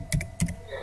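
Several crisp keystrokes on a computer keyboard in two quick pairs, close and clear, with no talking.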